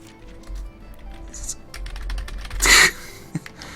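Rapid clicking of a computer keyboard typing during character creation in Dragon's Dogma: Dark Arisen on PC, a steady patter of keystrokes over low game ambience, rising to a loud, dense burst of clatter near the end.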